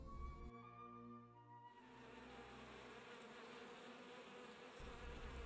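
Honey bees buzzing, a dense continuous drone of many wings with a few nearer individual bees passing close at the start, fairly quiet and with no talk.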